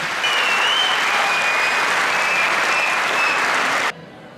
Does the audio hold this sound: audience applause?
yes